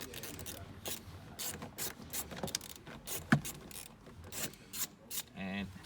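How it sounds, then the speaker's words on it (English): A 10mm ratchet turns anti-clockwise to undo bolts inside a Nissan Navara D40 dashboard. It gives quiet, close bursts of rapid clicking, repeated in short strokes with brief pauses between them, and nobody speaks. "So 10mm ratchet. Let's undo them anti-clockwise."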